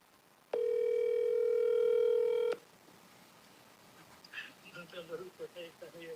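A phone call rings through on a mobile device as a single steady electronic tone lasting about two seconds, loud and clear, followed by faint background chatter.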